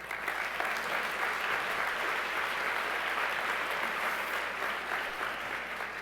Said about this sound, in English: that most definitely deserves a round of applause